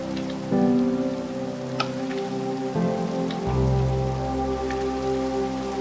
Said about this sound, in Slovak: ešte k tomu prší